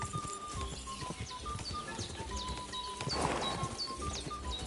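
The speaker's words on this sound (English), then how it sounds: "I can hear the hoofs behind me." Horse hooves gallop in the medieval video game Kingdom Come: Deliverance 2, a fast, busy clip-clop rhythm that continues throughout at moderate level, with birds chirping faintly in the background.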